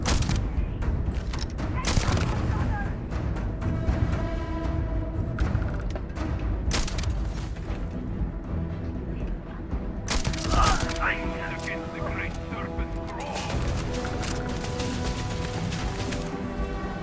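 Turret gunfire in the video game Starfield, Shattered Space: repeated sharp cracks and booms in bursts over a dense combat background, with a person talking over the action.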